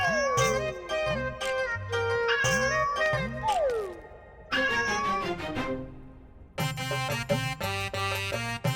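A cat meows repeatedly in a Tenali Rama episode, with a string of short, close meows in bursts, separated by brief pauses, the later ones coming faster and brighter.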